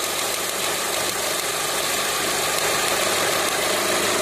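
Strange abnormal noise from a car engine, a steady dense mechanical drone with a rough, knocking texture, loud and continuous throughout with no talking.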